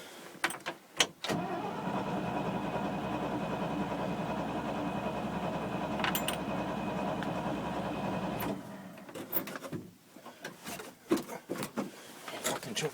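A car engine left unused for a year cold starts with a choke stuck, settling into a steady rough idle with a rattly mechanical whir, then cutting out into sputters and clunks near the end.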